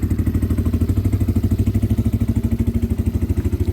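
A motorcycle engine runs close by in a steady, rapid low thumping pulse, loud and unbroken throughout, with no voices.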